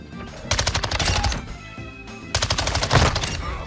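Bursts of MX9 submachine gun fire in Modern Warfare 2: two loud, rapid automatic strings separated by a short lull, close and crisp with no voices over them.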